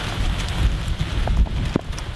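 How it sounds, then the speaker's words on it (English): Rain falling on a black Nissan car, a steady dense patter and hiss of drops on the body and roof, fairly loud and close, with a few heavier splats standing out. "Never view a car in the rain."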